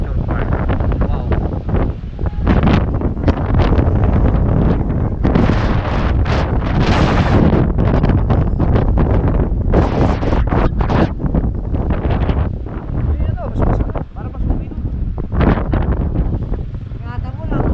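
Strong wind buffets the microphone outdoors at a historical nature park with a scenic view, a loud continuous roar with gusty swells that runs through the whole stretch, while people talk over it.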